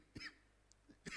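Two sharp coughs from a lecturer, one opening and one closing the moment, with a fainter throat noise between them, close and fairly quiet with no talk.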